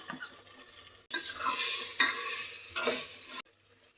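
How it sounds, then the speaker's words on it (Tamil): Chicken sautéing in a pan for biryani, with a spoon scraping and stirring through loud, bursting sizzles in several strokes before the frying noise drops away near the end. "அடுத்தது சிக்கன் போட்டு நல்லா வதங்கி வரணும்."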